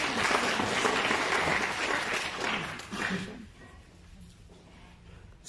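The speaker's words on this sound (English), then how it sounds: "You should give that a round of applause." A presentation audience applauds loudly with dense, sustained clapping that fades after about three seconds, leaving quieter room noise with scattered claps.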